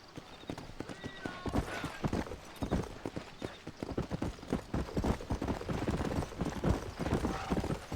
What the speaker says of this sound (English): Vamos lá, subindo um cavalo.